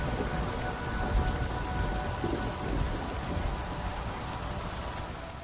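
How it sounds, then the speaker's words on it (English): A thunderstorm with heavy rain pours as a dense, continuous hiss of drops on surfaces, with low rumbles of thunder rolling underneath and nothing else heard. "The storm is too loud."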